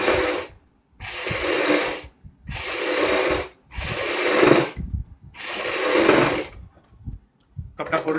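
Sewing machine stitching the neckline of a kurti over buckram, running in five loud, steady whirring bursts, each about a second long, separated by brief pauses, with a short start near the end.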